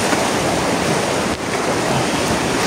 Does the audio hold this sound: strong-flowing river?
yes